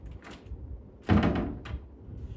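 A red oak gun cabinet door swings shut with a solid wooden thunk as the latch catches, then a lighter knock, close by in a quiet room.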